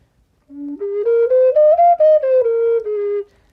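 A breathy whistle plays a slow rising-then-falling sequence of stepped notes, loud and close, with an odd hollow tone, for about three seconds. It is a Howard low D penny whistle with its head fitted on the wrong end.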